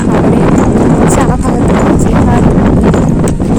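Strong wind buffets a hilltop in Idukki, roaring loudly and constantly across the microphone in gusty waves.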